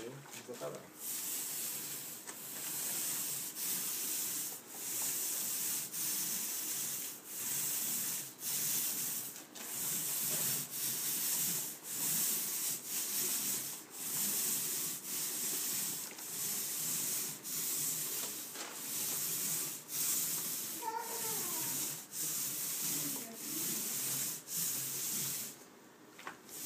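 Steady rhythmic rubbing strokes of feathering paint on an interior wall, a soft repeated scraping swish at close range, with a voice speaking briefly near the end.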